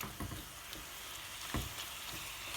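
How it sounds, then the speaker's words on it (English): Lamb meat for a mutton staff curry cooking in a pan over medium heat gives a soft, even sizzle with occasional low thumps and scrapes, quiet and close. "we're just going to cook our meat lamb in there"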